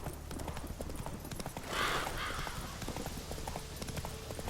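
Horse hooves clip-clopping from Roach in The Witcher 3, a steady rhythmic trot with a brief swell of noise midway, moderately faint.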